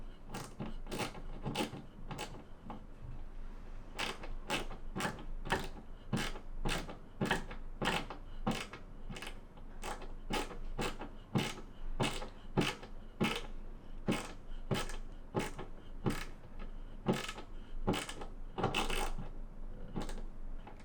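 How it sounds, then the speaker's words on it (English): A ratchet mini screwdriver turns a screw with a long run of crisp, evenly spaced clicking ratchet strokes, close and alone with no talk. "using the mini screwdriver ratchet"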